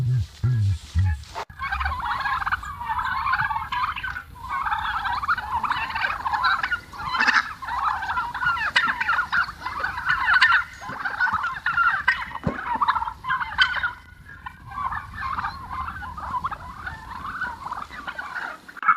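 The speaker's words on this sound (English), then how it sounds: "But the turkeys snatch food right from the shovel." A flock of farm turkeys gobbles almost continuously at an off-grid homestead as they wait to be fed, a loud, dense chorus of overlapping warbling calls with a few low thumps at the start.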